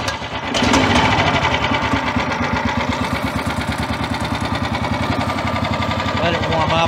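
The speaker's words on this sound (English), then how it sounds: "We're ready to start the SnowDog, and it does have controls on the handles, but you do have to choke it when it's cold." SnowDog motorized snow sled with a cold engine, choked and electric-started, then idling to warm up: a loud, steady rapid chugging and knocking engine rhythm that runs without pause after a brief start at the beginning.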